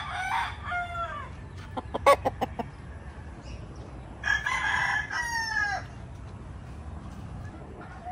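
A broodstag rooster, an authentic white-legged sweater, crows clearly at moderate distance, with a second crow following a few seconds later, amid clucks and a steady outdoor background.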